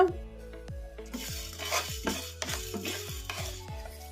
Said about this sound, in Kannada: ಇನ್ನು ಮೀಡಿಯಂ ಫ್ಲೇಮಲ್ಲೇ ಫ್ರೈ ಮಾಡ್ಕೊಂಬಿಡೋಣ